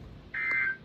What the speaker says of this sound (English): It's a beep.